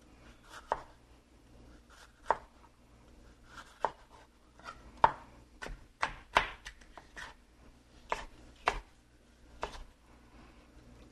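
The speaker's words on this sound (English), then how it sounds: "Again, we cut it lengthwise. We're going to turn it and cut it once crosswise." A kitchen knife cuts a red pepper on a cutting board with about a dozen separate sharp knocks, each one alone, spaced irregularly about a second apart at close range.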